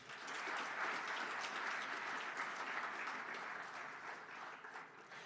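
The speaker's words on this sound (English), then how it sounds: "they deserve a round of applause" Audience at a national sports awards ceremony applauds its champions, a sustained, even wash of many hands clapping that swells early and slowly tapers off.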